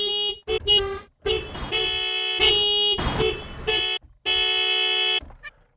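Car horns honking loudly and up close in a string of toots, some short and some held for over a second, alone with no voices.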